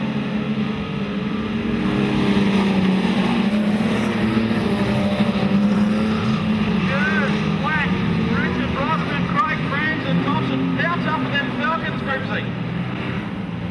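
Speedcars racing at Maryborough Speedway in Queensland at night, their engines a continuous droning roar with pitch swells as cars pass, while a commentator talks over the noise.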